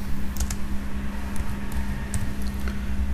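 Quick, light keystrokes patter on a computer keyboard in short irregular bursts, sitting over a steady low electrical hum, with no speech.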